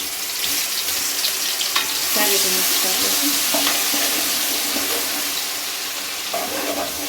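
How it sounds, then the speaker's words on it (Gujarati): Ginger, garlic and chili paste drops into hot oil with cumin and whole spices, giving a loud, steady sizzle with stirring clatter from a spoon against the pan throughout. "આપણે આદુ લસણ અને મરચાંની પેસ્ટ નાખશું।"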